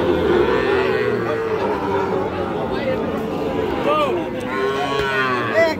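Shahiwal bull calves at a Bangladeshi cattle market: several drawn-out moos rise and fall in the middle distance over a busy crowd babble, with men haggling nearby.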